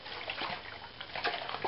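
Dirt and water sloshing inside a shaken jar, roughly half soil and half water, giving a steady wet churning with irregular splashy bursts, close and moderately loud with no talk.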